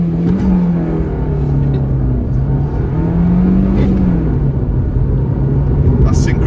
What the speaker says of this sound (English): This little Fiat Punto. Now then, we're on a bypass, we're going to do a 0 to 60 run.